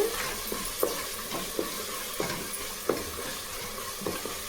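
Onions sautéing with chili powder stirred in for a pressure-cooker rice dish, a continuous close sizzle punctuated by regular scraping clicks of a spatula against the pan.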